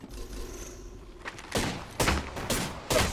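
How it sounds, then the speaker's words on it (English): Gunfire in Apex Legends, several sharp bursts that arrive in quick succession and grow louder through the second half over ambient game noise, with no talking. "They're shooting at me."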